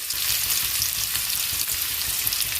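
Two onions frying in oil with turmeric for a fish curry, a brief, even, close-up sizzle with a soft crackling texture throughout.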